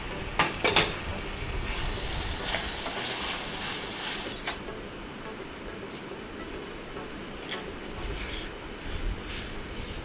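Mutton sizzles and sautés in a pan while being stirred for mutton kuzhambu and varuval, giving a continuous frying hiss with occasional scraping and clinking of a spoon against the pan, close and steady.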